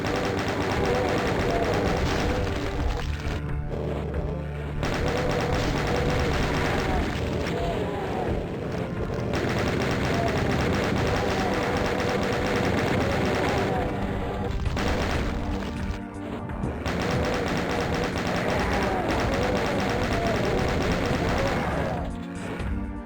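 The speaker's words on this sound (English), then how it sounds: "gonna chain gun them" A chaingun fires in Doom II on the Scythe II map Whispering Winds, rattling out long rapid bursts mixed with heavy game impacts and explosions, loud and dense with a few short pauses.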